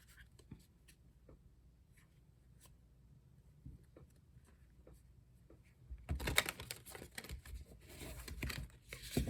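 Tarot cards are handled with soft scattered taps and rustles for several seconds, then a louder, denser burst of riffle shuffling near the end, close and quiet overall.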